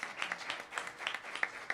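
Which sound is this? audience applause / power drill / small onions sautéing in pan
audience applause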